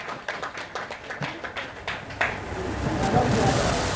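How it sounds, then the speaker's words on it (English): Applause from an audience at a community celebration hosted with a women's affairs ministry: a run of separate claps in the first two seconds swells into sustained clapping that holds steady to the end. "can you give them a round of applause for a good family?"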